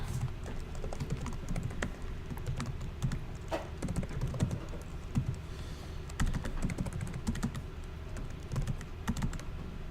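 A computer keyboard being typed on in quick, irregular bursts of close clicking keystrokes over a steady background hum, with no talking.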